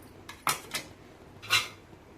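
Metal idli plates clink and clatter a few times, short bright knocks spaced apart in an otherwise quiet room.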